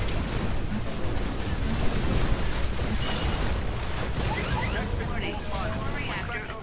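An explosion in a Titanfall match lands amid dense, loud broadband rumble and crackle of combat that runs through the whole stretch, with no clear single blast standing out.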